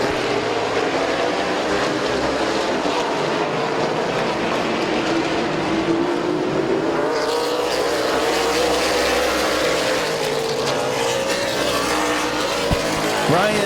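Race cars roar around the oval at Midvale Speedway, a dense continuous engine drone with pitch rising as the pack accelerates through a turn, loud and close throughout.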